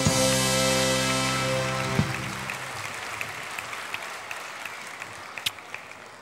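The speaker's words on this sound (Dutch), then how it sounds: "Applaus alstublieft." Audience applause at a Christmas stage show, a dense wash of clapping that swells at first and then thins out into scattered individual claps as it fades.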